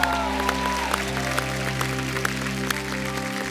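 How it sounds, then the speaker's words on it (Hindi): Studio audience applause greeting a singer on a comedy talk show stage, a dense steady clatter of clapping with sustained music tones running underneath for a few seconds. "जोरदार तालियों से स्वागत कीजिए"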